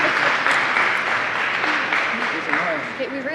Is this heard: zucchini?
no